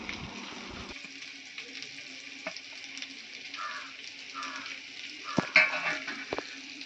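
Fish curry simmering in a clay pot, a soft steady bubbling sizzle with faint stirring and a few clinks, low and close throughout.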